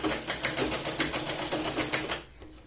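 A sewing machine stitches the underarm seam of a katori blouse with a rapid steady rattle of needle strokes, close and even, then stops abruptly near the end.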